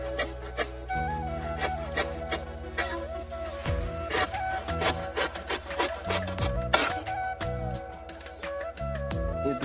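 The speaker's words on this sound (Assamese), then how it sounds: "সেইবাবে কাটি আছোঁ" Wood is cut by hand during a home building job, a steady back-and-forth rasping of a hand saw at close range, with faint background sounds.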